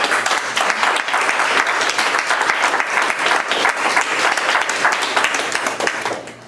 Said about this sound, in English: Will you please applaud the 6 presenters